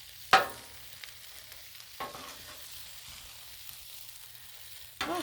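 Chicken sizzling on a Blackstone flat-top griddle, a steady quiet fry with sharp scraping clinks of a spatula turning the meat now and then.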